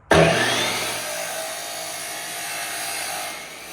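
A saw blade cutting into a plastic car headlight housing, starting abruptly and loud, then a steady, close grinding whine held for several seconds with no talking.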